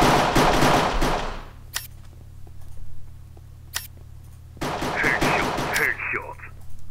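Gunfire in the video game MineStrike ends in a headshot. A burst of rapid shots comes first, then two isolated sharp cracks during a quieter stretch, then more firing and clicks near the end.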